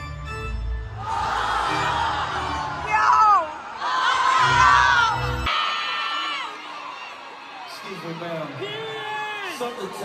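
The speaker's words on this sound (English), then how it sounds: "One more time, make some noise." A concert crowd cheering and screaming in loud, high-pitched bursts with whoops and shrieks, surging between pauses, with heavy bass music thumping underneath during the first half.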